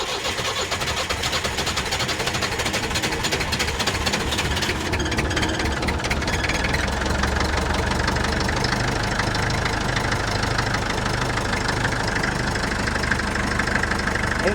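A 1962 Lansing diesel forklift engine cranks, catches and settles into a steady, loud knocking idle that runs continuously without a break, close by and with no talk over it.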